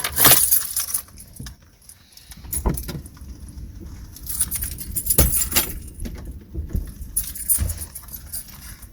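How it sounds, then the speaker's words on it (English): A smart key for a 2016-2020 Honda Civic is pulled out of the car, keys jangling and clinking in short, loud bursts with quieter rustling gaps between them. "Now take the smart key out of your vehicle."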